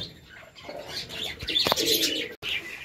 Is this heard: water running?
no